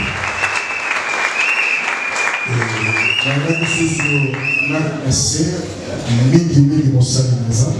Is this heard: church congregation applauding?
yes